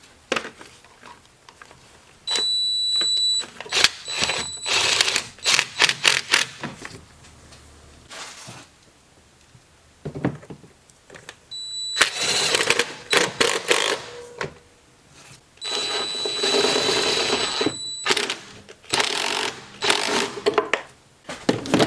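Bolts are tightened on a 2013–2019 Ford Escape engine during spark plug replacement, heard as several bursts of rapid ratchet clicking separated by quiet pauses.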